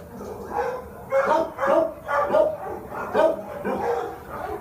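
Dogs in a shelter kennel bark and yip repeatedly in uneven bursts, some whimpering mixed in, with a reverberant, crowded sound over a steady background din.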